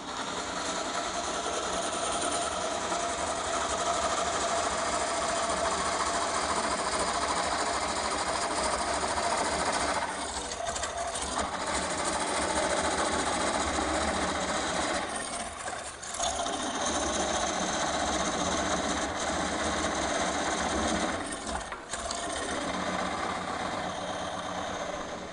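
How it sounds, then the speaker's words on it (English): A lathe runs steadily while a cutter cores into a spinning rod, a continuous broadband machine whir and grind holding near and fairly loud, with slight dips in load every few seconds. "start the lathe."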